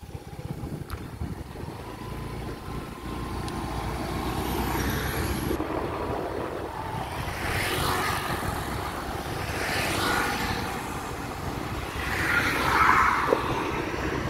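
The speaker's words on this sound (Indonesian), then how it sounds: "volume kendaraan sudah mulai ramai teman-teman ya" Vehicle traffic on the Padang Sicincin toll road as holiday travel builds, a steady distant rumble and hiss of passing cars and motorbikes that swells and fades slightly, with no talking.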